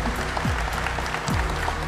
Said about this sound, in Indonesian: tepuk tangan dulu boleh silakan